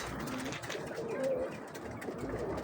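Domestic pigeons cooing softly in a loft, a low, soft, rounded call repeated a few times against steady background noise, with no talk.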